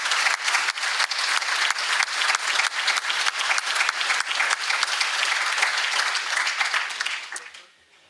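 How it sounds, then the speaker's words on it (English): A room full of people applauds warfighters present at an event, brisk dense clapping that holds steady for about seven seconds before quickly dying away. "I think we should give a round of applause to all the warfighters that are in the room with us."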